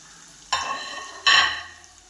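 Onions fry with salt in a pan as they are stirred, giving two bursts of loud, close sizzling and scraping over a steady low crackle.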